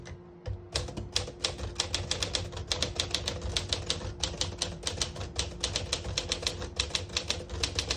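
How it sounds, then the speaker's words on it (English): A 1955 Smith-Corona Silent-Super portable manual typewriter clacks away in a fast, steady rhythm of sharp keystrikes, close and loud, with no voices. "I'll type a sentence in red on the next line"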